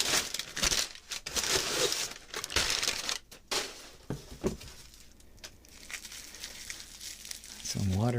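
Paper packing crinkles and rustles while the design challenge kit from Hammond Manufacturing is unboxed, close and fairly continuous, with scattered handling noises and a voice speaking near the end.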